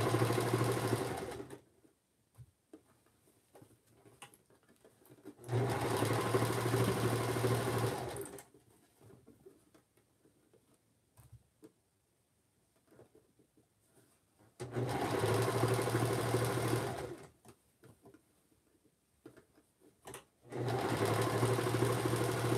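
A sewing machine running a straight stitch, buzzing in four steady bursts of several seconds each with quiet pauses between them.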